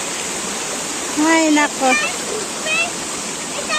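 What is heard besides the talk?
river water flowing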